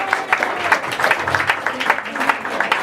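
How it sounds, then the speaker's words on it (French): Audience claps during the opening of an evening street-talent event, a patchy burst of hand claps of moderate loudness with voices mixed in underneath. "applaudissez s'il vous plaît"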